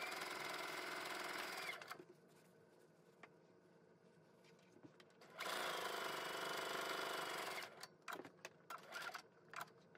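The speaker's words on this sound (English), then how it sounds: "So we're going to kind of sew these together really quickly." A sewing machine stitches quarter-square triangle fabric pieces for a quilt block in two steady, close whirring runs separated by a quiet pause, then finishes with a few short stop-start bursts.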